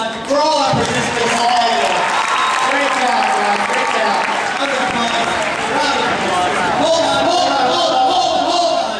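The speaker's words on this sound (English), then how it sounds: "Give one more round of applause for all our participants." Loud, steady applause from a talent show audience in a high school auditorium honoring the participants, with clapping and crowd noise sustained throughout, mixed with cheering voices.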